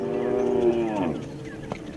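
Dairy cows on a farm low a long, loud moo close by, its pitch sliding down, followed by quieter lowing and faint farmyard background.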